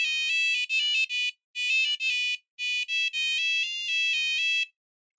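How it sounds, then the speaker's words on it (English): Electronic alarm from a PiicoDev air quality sensor triggered by poor air, a loud, high-pitched repeating beep in several bursts with short gaps, alone with no talk. "we transitioned to an AQI of 4, which is poor, and we had an alarm"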